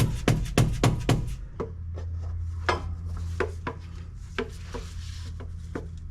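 Sharp metal hammer strikes drive a socket to seat a transmission part on a 2005 Chevrolet Silverado: a quick burst of five loud, ringing blows, then scattered lighter taps and clinks over a steady low hum.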